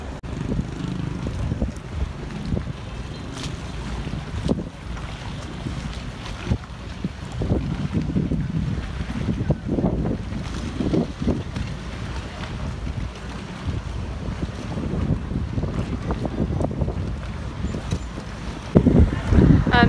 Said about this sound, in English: It's super windy, as you can probably hear